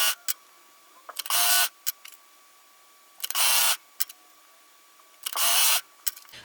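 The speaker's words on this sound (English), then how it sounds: "I'm using a serger." A serger stitches together the short ends of fabric bands for underpants in three quick, loud whirring runs separated by pauses, with small clicks and handling noises in between.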